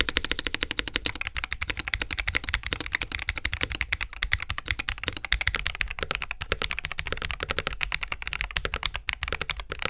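Continuous fast typing on a Razer BlackWidow V4 Pro 75 keyboard, dense clacking keystrokes with a rattling PBT spacebar, close and steady throughout with no talking.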